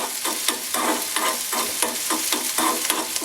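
Urad dal and mustard seeds frying in a pan on low flame for semolina upma, a close crackling sizzle broken by regular rhythmic scrapes of stirring, about two per second.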